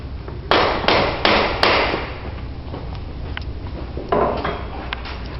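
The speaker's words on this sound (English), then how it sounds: "using a plastic hammer, strike the bottom of the faceplate" Plastic hammer tapping the bottom of a bicycle fork faceplate during a fork install: four sharp, evenly spaced strikes, then a quieter pause and one more tap, all close and clear.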